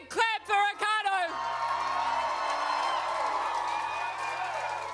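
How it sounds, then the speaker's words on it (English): A crowd claps and cheers at a New Zealand election night event as a campaigner named Ricardo is introduced. The applause rolls on steadily and fairly far off after short bursts of loud voices at the start. "Give a big clap for Ricardo."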